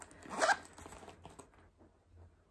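Metal zipper on a fake designer handbag, pulled once in a short, bright rasp near the start, followed by faint handling rustles and quiet background sounds.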